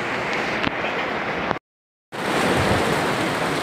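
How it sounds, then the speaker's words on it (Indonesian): Steady broadband rain hiss at an outdoor fire-fighting event in Sorek District, loud and continuous, cutting out briefly to silence midway before resuming just as heavily. "Hujan."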